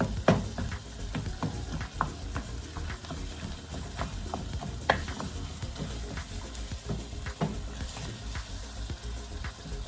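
Ground meat for lasagna sizzles steadily in a pan, with occasional sharp scrapes and clinks of a utensil stirring it throughout.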